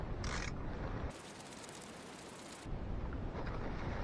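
Ratchet with an E-socket working a belt tensioner bolt on a Mercedes ML350, with quiet clicking pawl sounds and a louder, denser mechanical burst in the middle, close and with no talk.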